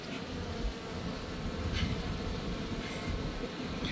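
Bees buzz in a steady, dense drone as they are collected from a propane box, a close, continuous hum with no talking.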